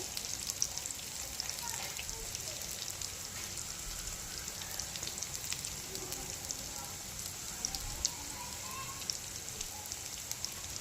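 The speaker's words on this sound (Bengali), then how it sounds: "এগুলো এখন ভাজবো হালকা আছে ভাজবো" Drumstick flower fritters (sojne fuler bora) frying in oil on low heat, giving a continuous fine crackling sizzle that stays steady and fairly quiet, with faint speech underneath.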